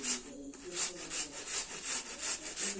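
An ingredient for a Malvan-style cucumber cake is grated by hand in a steady, rhythmic series of rasping strokes, about three per second, fairly quiet and close, with no speech.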